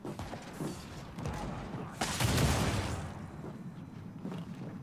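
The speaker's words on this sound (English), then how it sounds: "Oh, it's a freaking shotgun." Shotgun blasts in a Gears of War 4 versus match ring out over ongoing in-game battle noise, with a heavy surge of fire about midway that fades into quieter rumbling.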